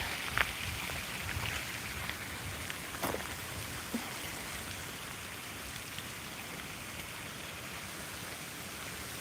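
Little forest fountain on Vancouver Island, water running in a constant gentle hiss and splash with a few brief knocks, steady and fairly quiet.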